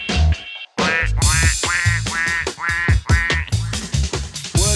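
Quacking duck sounds in a punk-style song, mixed loud among sung vocals and a full band with a steady driving beat.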